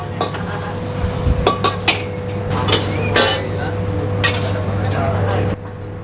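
Fried shrimp being stirred through sauce in a metal pan: a steady sizzle under repeated sharp scrapes and clinks of a utensil against the pan, with a constant hum behind and a voice speaking over it.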